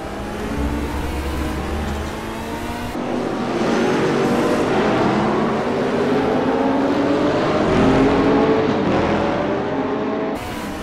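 Car engine in the picar3 driving simulator game, a steady droning run with rising revs and changing pitch, continuous throughout, with a brief lower tone near the start.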